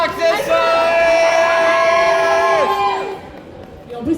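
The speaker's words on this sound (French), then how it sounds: "Applaudissez-la vraiment très très fort." A loud convention crowd cheers and whoops for about three seconds after a roleplay contest entry before the noise fades down to a murmur.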